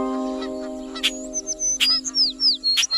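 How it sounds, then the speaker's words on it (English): Several parrots chirp and twitter in short bright bursts over a steady hum, with sharp calls repeating about once a second. "they saw a group of parrots twittering aloud"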